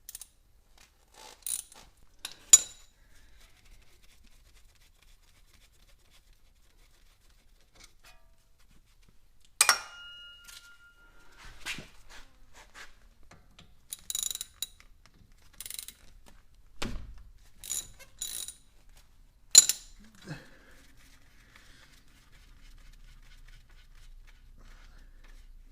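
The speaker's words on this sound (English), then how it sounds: "start by removing the 14mm caliper bolts" A ratchet works loose the 14mm brake caliper bolts on a Nissan Leaf, giving short bursts of metallic clicking and clanks separated by long quiet gaps, close and fairly sharp, with no voices.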